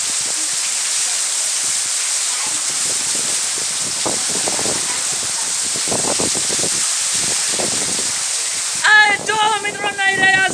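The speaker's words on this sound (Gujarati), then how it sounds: "કેટલો પવન ફૂંકાઈ રહ્યો છે તમે જોઈ શકો છો વરસાદ સાથે" Heavy rain with strong wind, a dense continuous wash of rainfall and gusting roar close to the recorder near a village, with a brief tonal sound breaking in near the end.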